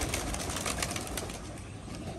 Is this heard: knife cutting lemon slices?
no